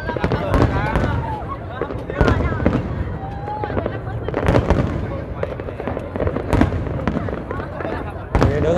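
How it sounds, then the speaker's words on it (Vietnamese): New Year's Eve fireworks at Landmark 81 in Vietnam boom and crackle continuously from a distance, with sharp bursts and popping throughout while a crowd talks and cheers nearby. "Đứng ở đây thì nghe tiếng phình phình luôn."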